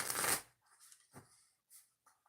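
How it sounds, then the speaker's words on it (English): A deck of oracle cards being shuffled by hand: one loud riffling burst at the start, then several softer, brief card slides and taps, close and quiet, no talk. "Two shuffles for pick a card reading"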